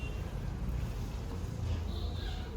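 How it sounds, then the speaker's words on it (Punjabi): A cool breeze blows outdoors in Punjab, a steady low rumble of wind buffeting the microphone for the whole stretch. "ਠੰਡੀ ਠੰਡੀ ਜੀ ਹਵਾ ਚੱਲਦੀ ਆ"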